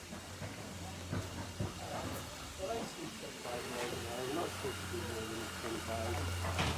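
A steady hiss and rushing of water as a steam locomotive on the Strathspey Railway takes on water, with clanking and a low engine rumble throughout.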